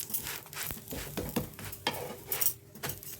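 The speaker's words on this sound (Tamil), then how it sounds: "திருப்பி விட்டு எண்ணெய் எப்பவும் போல் லைட்டாக தான் போடுறோம்" A methi chapati sizzles and fries in oil on a hot pan after being flipped, with steady crackling and scraping of a utensil against the pan, close and moderately loud, no talking.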